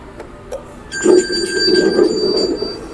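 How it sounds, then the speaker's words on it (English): A Halloween animatronic's mechanical corpse bell rings in a steady, droning peal that starts after a faint knock, continuing loud and unbroken to the end. "The corpse bell slowly tolls for thee."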